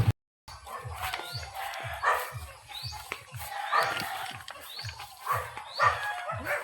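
Several dogs barking repeatedly in quick succession in the jungle, fairly close and loud, the barks overlapping in an uneven rhythm against rustling background noise.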